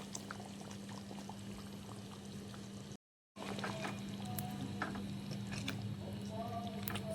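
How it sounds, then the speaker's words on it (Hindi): Half a cup of yogurt poured into a mixed spice masala in a pan for a spicy restaurant-style chicken dish, a steady soft wet pour running on with a brief gap midway, fairly faint against a low kitchen hum. "आधी प्याली इसमें मैं दही की डालूँगी।"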